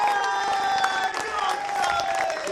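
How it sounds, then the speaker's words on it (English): A room of spectators at the Goliath 2022 live poker tournament breaks into a massive round of applause for the final nine players, loud, continuous clapping mixed with cheering and crowd noise. "can we have a massive round of applause for the final 9 of the Goliath 2022?"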